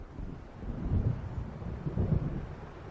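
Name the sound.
approaching storm thunder and wind in the video game Alan Wake Remastered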